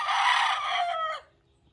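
A stag rooster of a new gamefowl bloodline crows once, a single loud drawn-out call from close by that trails off and ends abruptly.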